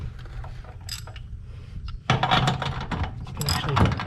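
A box end wrench turns a bolt on a boat trailer during bunk replacement, giving irregular metallic clicks, scrapes and clanks close by over steady outdoor background noise.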